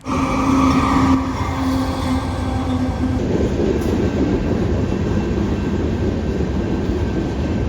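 Train rumbles past a railroad crossing, loud and close, a steady rolling roar with a tonal ring in the first seconds that gives way to broadband wheel noise.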